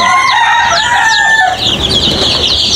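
Chickens in a rooftop coop make loud, close clucking and drawn-out crowing calls that give way to a harsh squawking burst, with no speech over them.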